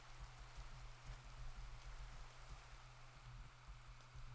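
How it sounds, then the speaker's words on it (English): Soft rain patters steadily in a video game with shaders, very faint and even, over a low constant hum. "Oh, it's raining. That's why it's so dark."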